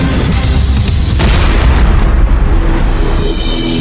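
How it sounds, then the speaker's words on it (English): Two-stage rockets propel an aircraft down a 300-foot-long sled track in a steady, very loud, close roar that fills the whole stretch without a break. "Two-stage rockets propel the aircraft down a 300-foot-long sled track."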